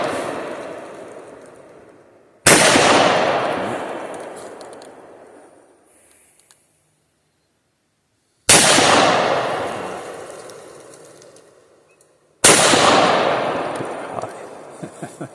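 Hi-Point JHP .45 ACP pistol fired outdoors at a swinging target: three separate loud, sharp shots spaced several seconds apart, each followed by a long fading echo rolling off into quiet.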